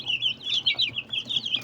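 Broiler chicks cheep and cluck in a fast, continuous chatter of high, wavering calls, fairly close but quiet over a low background hum.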